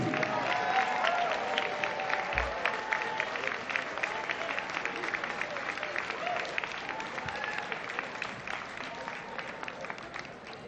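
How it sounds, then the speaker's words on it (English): Sustained crowd applause at an athletic hall of fame induction ceremony for the 2019 inductee class, dense even clapping with scattered cheers running for about ten seconds and slowly easing. "how about a big, big round of applause for the class of 2019"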